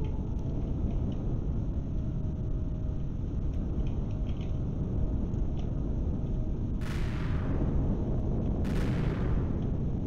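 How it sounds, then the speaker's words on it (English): Heavy artillery firing in the space game Empyrion: Reforged Eden, a constant loud rumbling roar with two sharp bright blasts late on, no talk over it. "Yep, you can shoot your artillery."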